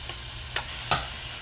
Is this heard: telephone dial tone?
no